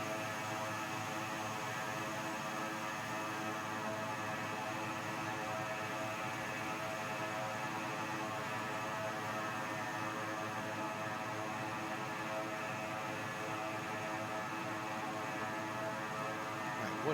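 Turboprop engines of a King Air C90B in the X-Plane 11 flight simulator, flying an Alaskan bush route from Anvik, give a steady, loud droning hum with constant tonal whine, unbroken and alone throughout.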